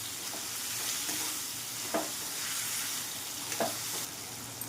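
Salted, turmeric-coated bitter gourd fries in oil, giving a soft continuous sizzle with a couple of brief stirring knocks, fairly quiet and with no speech.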